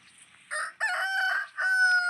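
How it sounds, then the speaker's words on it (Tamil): A rooster crowing on a farm, a loud close cock-a-doodle-doo in two drawn-out bursts after a faint opening call. "கோழிலாம் கூவிட்டு இருக்கு."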